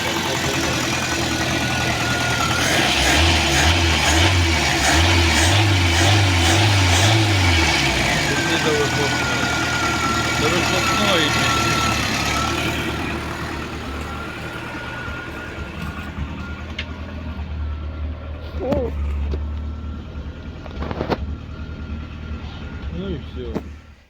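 A car engine idles steadily on its first start after a cylinder head replacement, close and fairly loud, with a beeping pattern early on and someone talking over it as the running smooths out and quiets later.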